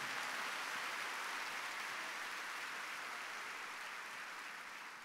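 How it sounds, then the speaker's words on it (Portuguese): A church congregation applauds in praise, a steady broadband roar of many clapping hands that holds evenly and fades slightly toward the end, distant and without voices on top. "Se você crê, aplauda o Senhor"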